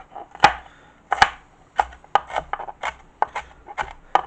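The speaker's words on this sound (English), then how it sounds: "Just get it a little chopped up into little bits here." Portobello mushrooms are chopped into little bits on a cutting board, the knife giving a quick irregular series of close, crisp thuds, some heavier strikes among lighter taps.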